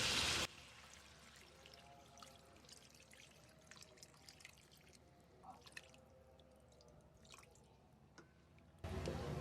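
Water trickles and drips into a pot of beef korma being cooked for a Ramadan meal. The pour is faint and close, with small splashes and drips and no talk.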